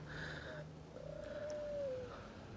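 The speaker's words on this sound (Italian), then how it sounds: "lo sai che queste tortore sono pure spiritose?" Turtle doves coo softly, with low murmuring calls and a longer drawn-out coo over a quiet outdoor background.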